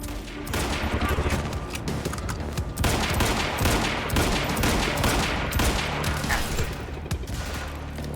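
Dense, loud gunfire in the shooter game Quantum Break: rapid overlapping shots and bursts that barely let up for the whole stretch, with no clear talking over them.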